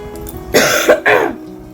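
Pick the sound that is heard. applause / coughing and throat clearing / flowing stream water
coughing and throat clearing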